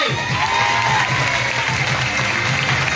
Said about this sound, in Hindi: या तो तालियां मारो ना